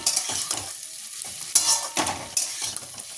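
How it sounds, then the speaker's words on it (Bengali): Small fish curry with green tomato and onion shoots cooking in a pan, with close scraping stirs and a steady soft sizzle in uneven bursts. "এই যে কাঁচা টমেটো দিয়ে পেঁয়াজ কলি দিয়ে চুনো মাছের তরকারিটা বসিয়েছি"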